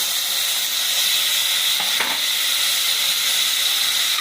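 Tomatoes sautéing in hot oil for rasam, a steady close sizzling hiss with a couple of faint stirring scrapes.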